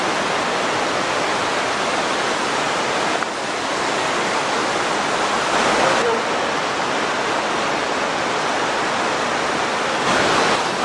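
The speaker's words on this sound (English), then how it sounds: "So that's the Genesee River out there." Genesee River water rushing far below an abandoned subway in Rochester, New York: a loud, continuous broadband roar like a waterfall, steady throughout with slight swells and no voices.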